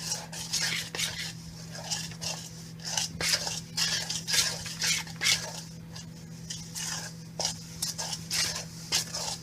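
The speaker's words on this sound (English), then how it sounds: "You have to mix for a while until it's all wet." A spoon stirs a thick flour batter in a bowl, scraping and clinking against the sides in a regular, close rhythm of repeated strokes, with no talking.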